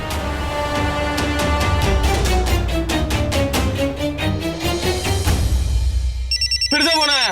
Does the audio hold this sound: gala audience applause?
no